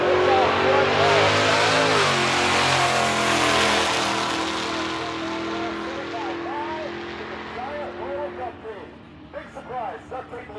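A drag racing car launches hard off the line at a small-town drag event, a loud sustained engine roar with harmonic revving that fades as the car pulls away, while a crowd talks and an announcer speaks over it.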